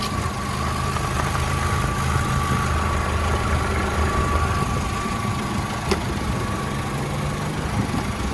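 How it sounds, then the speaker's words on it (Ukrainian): A Skoda Octavia Tour engine idles at a steady, even hum, close by, with no speech and only faint background noise. "двигун працює рівненько."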